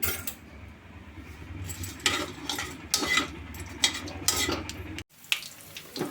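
Mustard seeds, cumin and dal frying in oil for a tempering, sizzling steadily while a spoon scrapes and clinks against the pan in irregular strokes.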